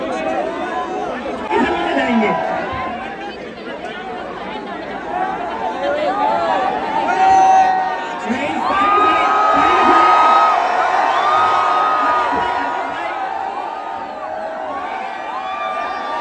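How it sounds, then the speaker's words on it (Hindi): Dense, loud crowd at a YouTuber's fan meetup, with continuous chatter, shouts and whoops and scattered cheering, and a nearby voice talking over the din. "इस मीटअप में तो देखो यार कितनी ज्यादा भीड़ है फुल"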